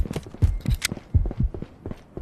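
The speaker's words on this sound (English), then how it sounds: "I hear his footsteps. I hear his fat footsteps." Heavy footsteps in the VR shooter Ghost of Tabor, a handful of thudding steps in an uneven rhythm, fairly close and loud, with no talk over them.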